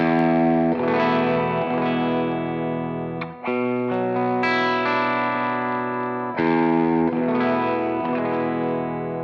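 Brighter, more biting electric guitar chords from a Suhr Classic S Super Strat on the bridge pickup with mild overdrive, strummed in sustained phrases with a short pause partway through.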